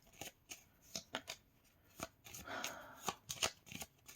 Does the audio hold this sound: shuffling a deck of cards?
yes